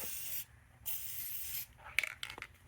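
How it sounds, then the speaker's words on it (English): A can of Gorilla Glue spray adhesive hisses in two short bursts of about half a second each, close and steady, followed by a few faint rubbing and handling noises. "I'm gonna spray it with this Gorilla Glue spray"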